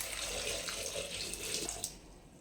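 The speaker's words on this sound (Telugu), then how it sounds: "ఇప్పుడు ఇందులోకి అవి మునిగేటట్టు వాటర్ పోసుకోవాలి." Tap water pours steadily into a pressure cooker over peeled potatoes, a continuous close splashing rush with no talk.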